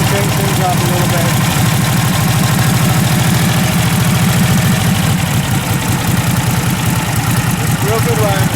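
A 1947 Harley-Davidson EL Knucklehead with a stock engine idles while warming up, a loud close rhythmic lumpy putter that holds steady throughout.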